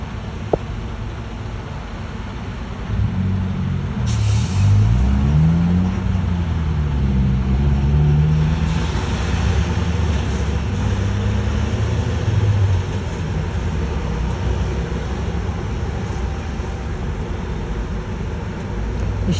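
A Ford Windstar minivan pulls away outside, heard as a steady, fairly loud engine rumble with rising and falling tones that continues for most of the clip, without speech.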